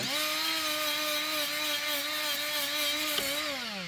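A die grinder or brush wheel scrubs surface rust off a wheel knuckle during a Cadillac CTS-V hub swap, giving a loud, steady high-pitched whine throughout that dips briefly in pitch near the end.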